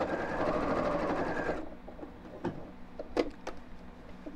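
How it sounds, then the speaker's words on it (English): Sewing machine stitching fabric on a pearl bead handle purse, running steadily and close for about a second and a half, then stopping, followed by a few faint clicks and taps. "make sure you're not sewing through both pieces of fabric"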